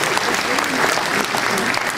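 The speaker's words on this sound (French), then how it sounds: "On peut les applaudir quand même" An audience at a town's 2024 New Year's greetings ceremony applauds people called into the spotlight, with loud, steady crowd clapping throughout.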